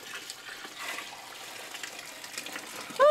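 Hot boiling dye pours into a plastic tub already holding boiling water, a faint, steady watery gush running for a few seconds before a louder sound cuts in at the end.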